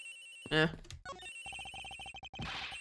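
A cell phone's electronic ringtone rings in a locker room scene of the Ace Attorney Investigations: Miles Edgeworth video game, a steady repeating chirp under game music, with a short burst of voice-like game sound near the start.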